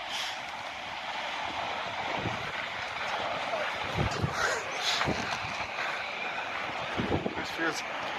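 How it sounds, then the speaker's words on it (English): Strong wind buffets the microphone during an inline skating session on Flying Eagle X7D skates, a steady loud roar with gusty swells and faint rolling noise underneath. "Holy shit, the wind."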